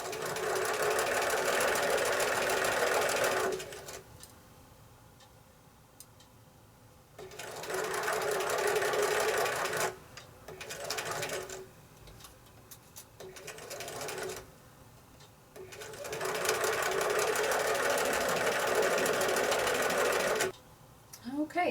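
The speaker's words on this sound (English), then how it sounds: "Lift that presser foot ever so slightly and slide the pieces underneath and start stitching." A sewing machine stitches chain-pieced quilt fabric in three loud runs of rapid rhythmic clatter, separated by quieter pauses where the fabric is repositioned. A voice talks faintly during the gaps.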